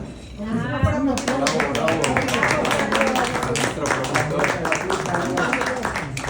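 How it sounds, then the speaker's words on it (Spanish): An audience at an economic history conference breaks into applause, dense overlapping clapping that starts after a moment of murmured voices and continues steadily and close throughout. "Un aplauso para él porque no organizó."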